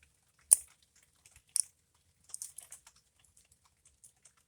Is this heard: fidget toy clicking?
yes